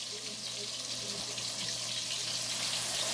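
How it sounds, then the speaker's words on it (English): Battered fries bubble quickly in hot frying oil as part of a gourmet burger meal. The sizzling is a dense, steady crackle that continues without a break, heard close and at an even level. "Do you see how that's bubbling up really quick like? That's because of the liquidy breading that we have on it."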